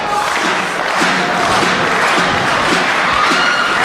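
Wrestling crowd roaring and cheering at a live indie match, a dense, loud, steady wall of voices with a few faint thuds underneath.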